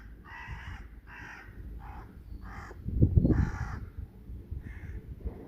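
Crow cawing at a cat outdoors: about eight harsh caws in an uneven series, fairly close, with a short burst of rustling noise partway through.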